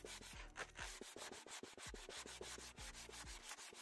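Wet sanding on a yellowed plastic scooter gauge cover, rapid back-and-forth rubbing strokes repeating in a quick rhythm, quiet and close with no voices.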